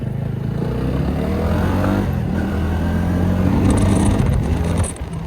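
A car pulling away hard to show off its pickup, a loud continuous engine roar climbing in pitch through gear changes, close by and heard alone, then dropping off sharply at the end.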